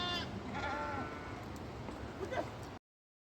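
Sheep in a shepherds' flock in Uttarakhand bleat in overlapping, wavering calls, some nearer and some farther off, over steady outdoor noise.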